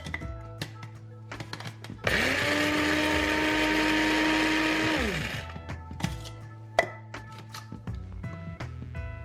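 An electric coffee grinder whirs loudly through coffee beans for about three seconds, steady and close, framed by clicks and handling knocks before and after.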